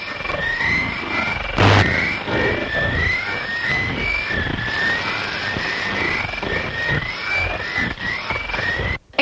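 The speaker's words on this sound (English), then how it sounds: "what you're hearing is a broadcast of unknown origin that has been noted 627 times since 1964" An eerie radio broadcast of unknown origin: a continuous, loud wash of crackling static and rumble with faint warbling tones drifting through it, cutting off abruptly at the end.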